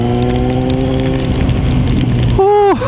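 Steady heavy rain hisses and patters on surfaces up close while riding a 2022 Kawasaki Z900 motorcycle, with a sustained engine hum underneath and a brief rising whine near the end.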